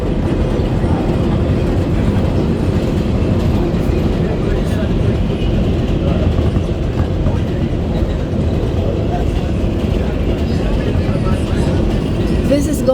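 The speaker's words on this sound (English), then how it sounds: "So the speed of the train is fast." A New York City subway 7 express train runs at speed, filling the space with a steady, loud rumble and rattle that continues unbroken, with no talk heard.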